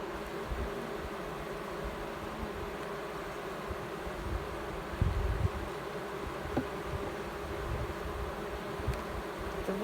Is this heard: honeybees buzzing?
yes